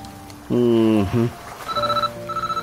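A phone rings in a domestic scene of an Ilocano comedy drama, its repeating electronic ringtone pulsing in short bursts after a voice speaks loudly over background music.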